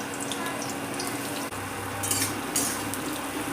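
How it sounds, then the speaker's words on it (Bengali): Sliced onions fry in hot oil in a pan while being stirred for chicken biryani, giving a steady close sizzle broken by a sharp utensil knock and scraping stirs. "পেঁয়াজটা দেখুন আমি তেলের মধ্যে দিয়ে সমানে এইভাবে নেড়ে যাচ্ছি"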